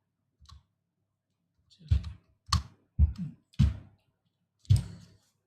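Faint computer mouse clicks while drawing lines in 3ds Max, five or six soft, dry taps spaced irregularly in a quiet room, with no talk over them.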